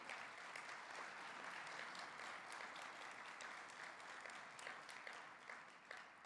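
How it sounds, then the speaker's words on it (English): A large audience applauds at a Vietnam War Veterans Day welcome home ceremony at the National Veterans Memorial and Museum, honoring the Army Band; the clapping is steady and dense throughout, and no voices are heard. "A round of applause for our Army Band today and Sergeant Chu"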